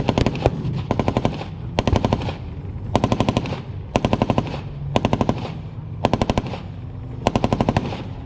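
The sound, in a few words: simulated artillery barrage at tank battle reenactment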